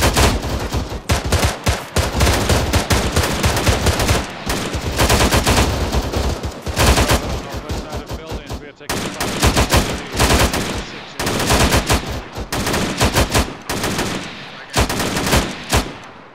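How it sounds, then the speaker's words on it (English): Sustained automatic gunfire in the military shooter game Arma 3, loud dense bursts of rapid shots continuing almost without pause, with brief gaps between volleys. "So, gunfire coming from Chris."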